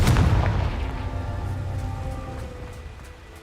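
A blasting-spell explosion from the Hogwarts Legacy video game: one loud, booming burst at the start that decays into a rumbling, crackling tail over a few seconds, heard alone with no talk.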